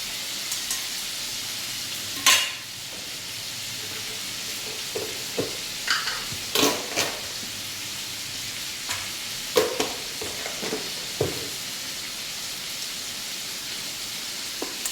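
Tomatoes cooking in a pan give a soft, steady sizzle with a few sharp stirring scrapes and clinks of a utensil against the pan, heard close up with no talking.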